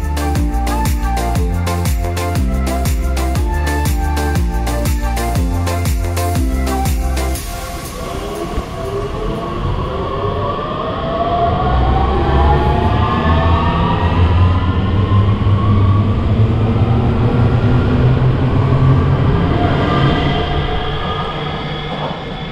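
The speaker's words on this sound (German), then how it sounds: "Und hier am Holbeinplatz können wir uns auch nochmal die Ausfahrt des Zuges anschauen." An S-Bahn train pulls out of Holbeinplatz station in Rostock, starting with a loud rhythmic electric hum and clatter, then rolling wheel noise and rising motor whine as it accelerates away, with no voices.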